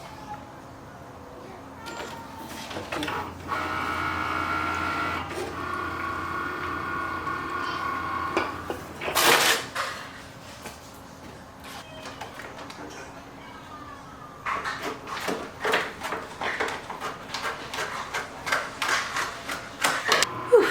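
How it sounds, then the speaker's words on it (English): Cricut cutting machine slicing a vinyl design, a steady mechanical whir with carriage movements and later a series of quick ticking strokes, with someone talking over it. "the machine is cutting those out"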